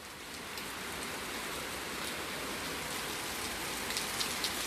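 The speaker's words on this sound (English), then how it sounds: "All right, so it's raining, y'all. Hard rain, like expected." Hard rain falls in a steady, dense hiss that holds at an even loudness throughout, with a few faint drips standing out near the end and no voices.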